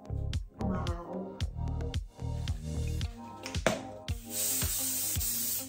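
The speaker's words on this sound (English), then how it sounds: "Just a little bit of hairspray for the finish." Several short, hissing bursts of hairspray are misted over finished, crimped hair, loud and close, separated by brief pauses, with a longer spray toward the end.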